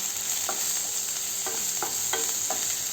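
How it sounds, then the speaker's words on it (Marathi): Onion, tomato and coriander masala for egg bhurji being sautéed in a pan, with a steady bright sizzle throughout and about six spaced scrapes of the spatula stirring the mixture. "टोमॅटो घातलेला आहे, थोडीशी कोथिंबीर आणि एकदा ह्याला परतूया."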